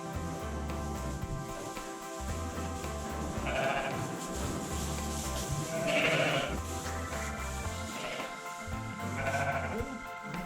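Several sheep on a Scottish Highland farm bleat repeatedly at close to medium range during wrangling in a shed, their wavering calls overlapping against a steady background of music or shed noise.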